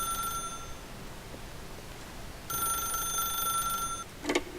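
A telephone rings in The Stanley Parable video game: a thin electronic ring in two separate bursts with a quiet gap between them, followed by a short click near the end.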